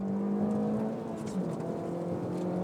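A small car from the under-150 ps class accelerates hard up a mountain pass, its engine note droning and shifting at moderate distance while someone talks over it.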